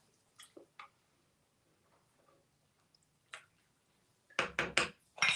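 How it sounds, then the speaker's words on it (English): Christmas party punch stirred with a utensil in a bowl: a few faint soft clinks early on, then a loud cluster of four sharp clattering strikes near the end, close up with no talking. "And give this a stir real quick."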